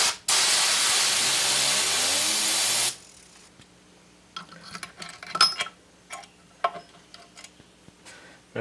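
Aerosol spray hisses loudly and steadily for about three seconds while cleaning the oil slinger of a 10 HP Briggs and Stratton engine under rebuild, then stops, leaving quiet clicks and light handling of parts.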